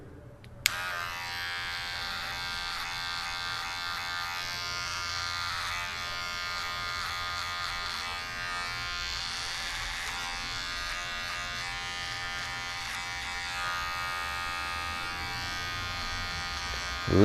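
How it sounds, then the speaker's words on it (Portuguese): An electric hair clipper buzzes steadily at close range while cutting hair for a fade at a barbershop, a continuous even hum that switches on near the start and runs without talk. "a máquina que a gente vai usar como referência para o corte"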